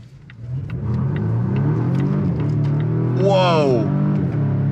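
A 2024 Volvo S60 Recharge accelerates hard, its engine rumble building steadily with a brief rising whine partway through, heard from inside the cabin while people talk over it.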